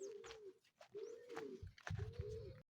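Racing pigeons cooing at a derby loft, with about three repeated throaty coos close by, each lasting around half a second, over light background rustle.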